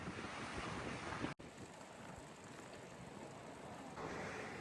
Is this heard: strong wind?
yes